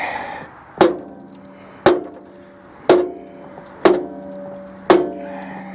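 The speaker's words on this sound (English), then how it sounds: "So what I'm gonna try to do, break that cast aluminum." A hammer hits cast aluminum scrap five times, close by, in loud, sharp metallic blows with ringing tails, spaced about a second apart.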